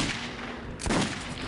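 A single sharp gunshot in the game Metro 2033 Redux bursts out over steady background noise, loud and close, with a short rumbling tail.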